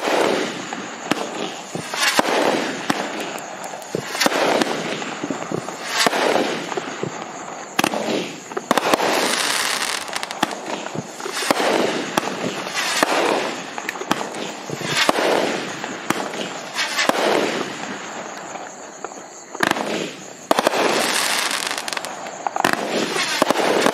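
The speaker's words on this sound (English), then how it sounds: "Then see the triple strobe miles to spider webs and the red strobes, plus a finale of spinning tails to color palms and crackers." A Magnus fireworks cake fires triple strobes, spider webs, red strobes, spinning tails, color palms and crackers: a loud, continuous run of rapid bursts and dense crackling with no pauses and no voices.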